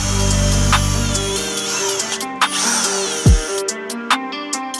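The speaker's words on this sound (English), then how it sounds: "Now I'm going to remove it, do some drilling" A power drill bores a hole through a carbon fiber part for a 2023 BMW M1000RR motorcycle, whining steadily before spinning down, followed by a few short sharp clicks and taps close by.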